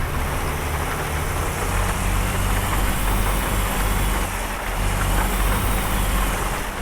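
A truck engine in a driving video game idles with a steady, loud, low rumble and a constant hum, with no voices over it.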